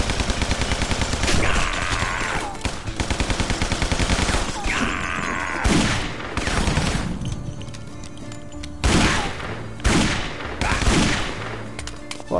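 Magnum shots boom in the mob-themed shooter Guns, Gore and Cannoli, part of a loud, dense stretch of repeated gunfire with heavy reports in clusters and a few separate blasts, and almost no talking.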